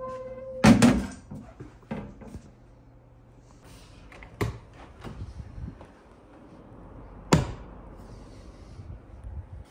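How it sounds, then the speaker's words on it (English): A fire alarm relay clicks and a magnetic fire door holder re-engages after a system reset: a few sharp, isolated clunks spaced several seconds apart over quiet room tone. "Probably hear the relay up in there click, which means our fire door will hold open again."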